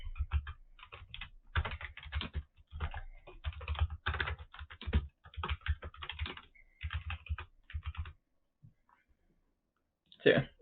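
Rapid bursts of clicking on a computer keyboard, close and fairly quiet, run in uneven clusters for several seconds, then pause before one final quick flurry of keystrokes.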